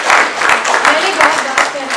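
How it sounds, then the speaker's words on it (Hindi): Audience at a business summit panel in Udaipur claps in a dense, steady burst of applause that lasts throughout, loud and close. "आई थिंक थोड़ा जोर से ताली बजाते हैं"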